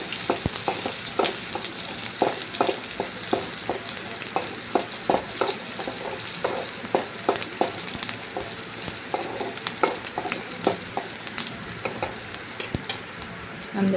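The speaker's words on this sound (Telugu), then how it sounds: "పచ్చిమిర్చిని కూడా బాగా కలుపుకొని" Green chilies stirred into a chicken curry pan, a steady sizzle with regular scraping strokes of a spatula repeating every half second or so, close and moderately loud.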